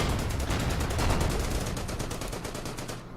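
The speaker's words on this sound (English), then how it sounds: "There is the AT gun. Let's take a shot at that T-34" Rapid, evenly spaced gunfire from an anti-tank gun battle against a T-34 tank in the World War II strategy game Order of Battle rattles steadily for about three seconds, loud and close, then cuts off.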